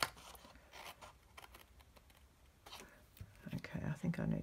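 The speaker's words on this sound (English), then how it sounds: "I'm just going to use my scissors" Faint, scattered snips of scissors cutting paper for a gift box, soft and close, with quiet murmuring in the background.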